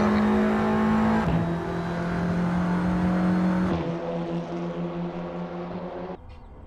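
Sim racing touring cars from the simTC series at Barbagallo roar continuously with sustained engine drone, pitch shifting as they shift gears and slide sideways, loud and steady throughout with no talk.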